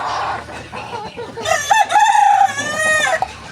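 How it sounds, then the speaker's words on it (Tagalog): Chickens clucking and a rooster crowing at a simple rural home in the Philippines, with a long, loud, close cock-a-doodle-doo rising over softer clucks and background clamor. "Dami pong manok rito."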